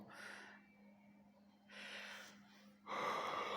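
A person imitates a chicken yawning with three breathy gasping exhalations, separated by short pauses.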